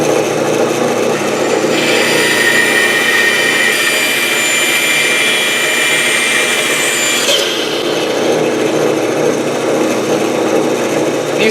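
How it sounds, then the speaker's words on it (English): Bandsaw cutting notches into a wooden piece for a wine table: a steady loud whine of the blade and motor with rasping wood friction running throughout, rising in pitch for a stretch in the middle, no talking. "back at the bandsaw"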